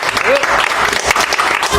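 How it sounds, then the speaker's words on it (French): Brief burst of studio audience applause on a French television talk show, loud and close, with a voice briefly rising over the clapping. "applaudissements pour Jacques Baranès"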